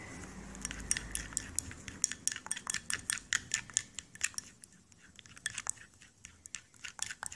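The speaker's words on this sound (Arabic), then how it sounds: "وغادي نخلط جميع المكونات مع بعضهم البعض" Eye-cream ingredients, including oils, are stirred together in a bowl, making rapid clinking and scraping taps of a utensil against the bowl, fairly close and continuous, with a brief pause midway.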